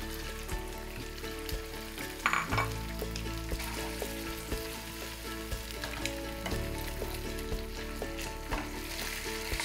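Chicken pieces frying in a pan for Bengali chilli chicken give a steady, close sizzle with occasional stirring clatter, over a faint tonal background hum, with no one speaking.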